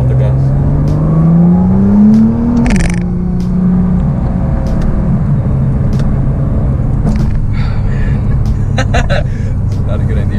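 Inside a Nissan GT-R the engine climbs in pitch, then drops sharply as it downshifts, leaving a loud low rumble underneath while people talk over it.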